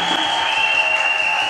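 A church congregation at a Catholic Mass applauds for the Lord, a steady, dense wash of clapping that fills the whole moment without breaks.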